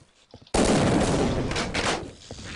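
A sudden burst of gunfire in Half-Life: Opposing Force comes through a wall, a loud muffled roar of rapid shots after a few faint sounds, sustained for about two seconds before tapering.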